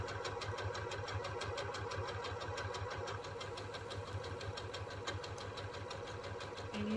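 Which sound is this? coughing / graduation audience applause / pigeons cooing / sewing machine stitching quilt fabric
sewing machine stitching quilt fabric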